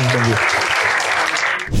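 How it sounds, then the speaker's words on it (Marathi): Audience applause at a Marathi comedy roast show, a dense wash of clapping that fills the whole clip and fades near the end, preceded by a brief voice at the start. "सगळ्या टाळ्या भाई मित्रांसाठी टाळ्या"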